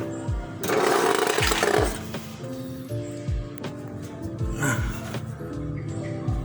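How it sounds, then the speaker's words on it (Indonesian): An angle grinder cuts lengthwise through a metal body mount from a Toyota Land Cruiser 80 series, loud harsh grinding bursts with a rhythmic low thumping underneath, close and continuous. "Saya potong memanjang dengan gerinda"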